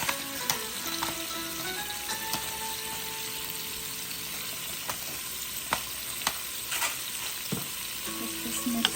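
Seasoned lumpia filling is stirred in a hot pan, a constant sizzle punctuated by intermittent spatula scrapes and taps against the pan, with no talking.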